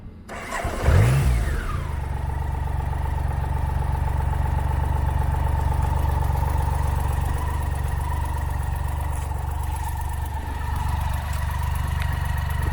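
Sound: three-cylinder motorcycle engine running

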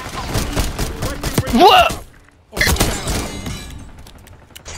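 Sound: pistol gunfire in Black Ops 6 video game

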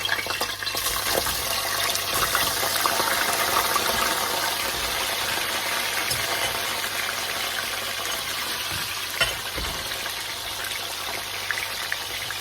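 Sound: ready-made chicken nuggets poured into hot oil, frying

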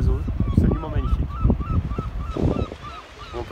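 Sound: birds calling at a coastal bird sanctuary

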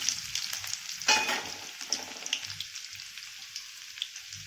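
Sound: crushed garlic sizzling in hot oil for dal tadka

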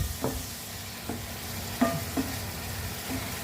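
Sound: stirring frying gizzard and liver adobo in oil

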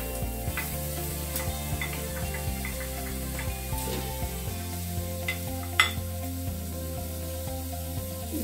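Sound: pork ribs, chicken, onion and garlic frying in hot oil

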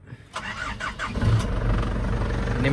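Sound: Isuzu Dragon 2.8 turbo pickup engine starting

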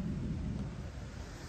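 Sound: rumbling thunder during a rainstorm

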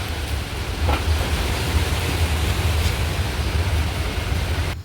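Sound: strong wind blowing before rain

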